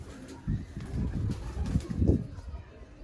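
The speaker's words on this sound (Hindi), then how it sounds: "बहुत मज़ेदार टैडी कबूतर" Soft, low coos of Teddy pigeons repeat in short bursts, fairly close, over a faint background hiss.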